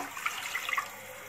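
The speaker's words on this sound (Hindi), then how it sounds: "दो से तीन मिनट इसे भूनने के बाद आप इसमें 2 गिलास पानी डाल दीजिए" Two glasses of water are poured into a pot of masala biryani after the spices and meat are fried, a soft, steady splash and trickle lasting about a second, fairly quiet and alone.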